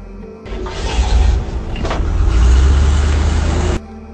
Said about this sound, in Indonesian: kemudian ia tancap gas dengan mobilnya